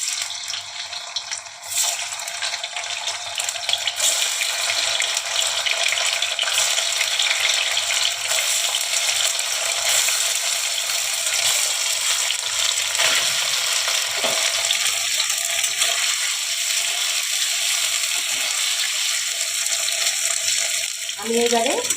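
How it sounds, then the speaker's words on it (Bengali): Paneer pieces fry in oil with a loud, continuous hiss and sizzle, close by and unbroken, with a few faint clatters toward the end. "আমি আগে পনিরগুলোকে একটু ভেজে নেব।"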